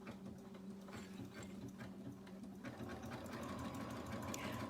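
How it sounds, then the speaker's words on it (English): A sewing machine stitching a decorative pattern along cloth at reduced speed, a steady mechanical whir with rapid rhythmic clicking of the needle mechanism, faint and continuous throughout. "to sew my decorative stitch here, I'm going to turn my speed down"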